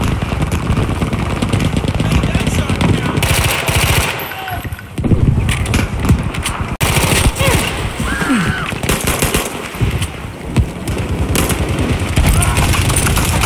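Rapid automatic fire from an M2 Carbine rifle in Battlefield V rattles in loud, dense bursts with brief pauses, under battlefield din, with a voice speaking at moments.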